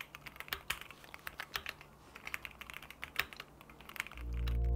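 Typing on a Keychron Q1 Pro aluminium mechanical keyboard with a gasket mount and foam dampening, a quiet, steady patter of fairly soft keystrokes. Near the end a low rumble rises.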